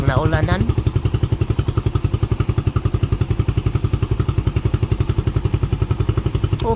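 A motorcycle engine that starts by itself once the key is switched on runs with a fast, steady putter, close and loud; a brief sputtering surge opens it, and the idle stays rhythmic after.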